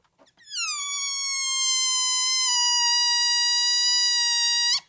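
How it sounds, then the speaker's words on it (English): A rubber balloon vibrates at its open end with no tube attached, giving a loud, high, squeaky tone that starts abruptly, dips slightly in pitch, and holds steady for about four seconds before stopping. "we can make the same vibration happen at the end of the balloon, but you're going to hear a very different sound"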